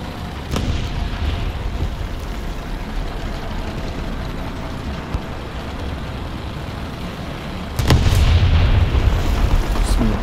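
A Sturmpanzer 2 fires artillery in the War Thunder tank battle game, with sharp booming explosions at the start and later against a constant rumbling engine bed, one blast noticeably louder near the end.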